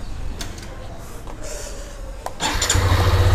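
A Hero Xtreme 125R motorcycle's electric self-start cranks briefly, then the engine catches and settles into a louder, steady idle rumble close by, with faint clicks before it fires.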